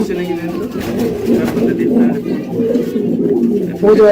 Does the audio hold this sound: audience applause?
no